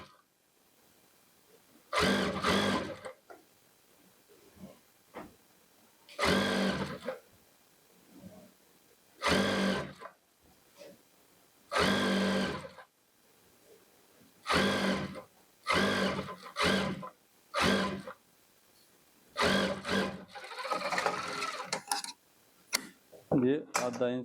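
Short bursts from a sewing machine stitching the edge of a kurti come in a rough rhythm of about a dozen runs, each a second or two long, close and moderately loud, with quiet handling between them.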